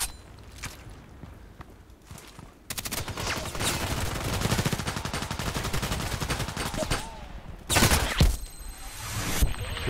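Sustained automatic gunfire in the online shooter Contract Wars, loud and rapid with a dense, rattling texture, preceded by scattered single shots and ending in a few heavy bursts, with occasional speech underneath.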